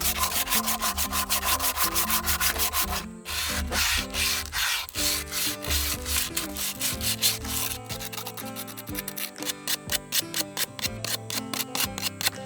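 Carved wood is rubbed with sandpaper at a camping site, brisk rhythmic scratchy strokes repeating close up and continuously, with a brief pause partway through.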